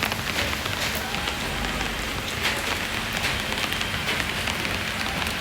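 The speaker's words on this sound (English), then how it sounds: "It's raining, but it's not like cold." Steady rain in Canggu patters densely on a surface nearby, a constant hiss of drops throughout with no voices.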